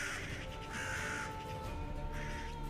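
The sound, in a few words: crows cawing, sound effect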